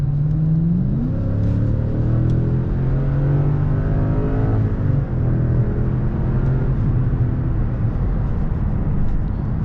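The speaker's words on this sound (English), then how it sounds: "let's go ahead and check out the pickup of this V8 here." A 2016 Lexus LS460 with a 360-horsepower V8 engine accelerating from inside, with a steady rising drone and a smooth upshift partway through. It stays loud and continuous with no talking.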